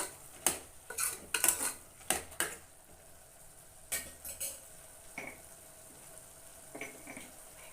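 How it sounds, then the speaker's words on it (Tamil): Mushrooms being mixed into masala in a pot for mushroom biryani: scattered scraping and clinking of a spoon against the pot, with a faint sizzle under the stirring. "அந்த அரை கேஜி காளானை சேர்த்துக்குருவோம் இந்த மசாலாவோட மிக்ஸ் பண்ணுவோம்"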